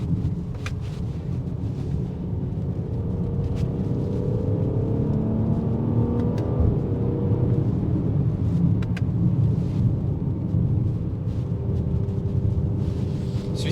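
A Mercedes-AMG GLC 43 engine pulls steadily at around 4000 rpm while driving, a continuous low rumble with road and tyre noise lasting throughout, no talking.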